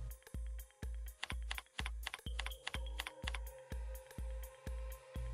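Keys on a computer keyboard tapped to enter a password at a login screen, a steady run of about a dozen sharp, close clicks, evenly paced with brief gaps and no voices.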